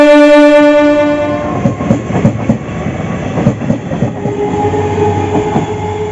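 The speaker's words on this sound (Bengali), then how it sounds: "ট্রেনও ঢুকছে এখন" A train pulls into a station platform. A horn blares at the start, then the carriages rumble and clatter loudly and close by, with the rhythmic clicks of wheels on the rails continuing to the end.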